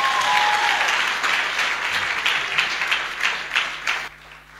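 A church congregation bursts into sustained applause acclaiming the Lord, a dense wash of many hands clapping that swells with a rhythmic pulse and then tapers off near the end.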